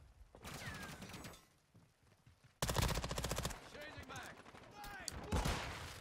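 Modern Warfare 2 automatic weapon fire, a rapid rattling burst followed by further close, loud volleys, with a player's voice faintly underneath.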